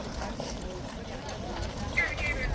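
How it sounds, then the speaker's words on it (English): A large riderless police horse clip-clops its hooves on a hard street surface, steady and moderately close beneath people talking. "massive, beautiful police horse here, minus rider"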